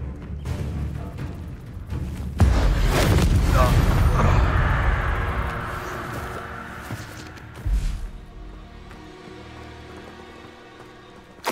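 Expelliarmus spell cast in Hogwarts Legacy, a sudden loud burst at about two seconds swelling into a roaring, crackling rush that fades slowly, with a second smaller impact later and a voice heard around it.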